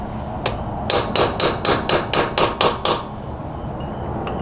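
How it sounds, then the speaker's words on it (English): A hammer strikes a chisel-pointed punch to bend lock tabs on a Yamaha XT225/TTR230 motorcycle engine, one tap followed by eight even, ringing metallic blows in quick succession, close and loud, then quiet. "I'm just going to use a kind of a chisel-pointed punch here and a hammer to bend these down."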